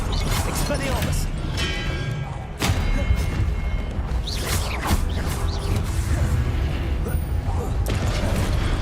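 The Expelliarmus spell cast in Hogwarts Legacy, heard as whooshing magical bursts and heavy thuds within loud, dense game sound, with a voice speaking over it.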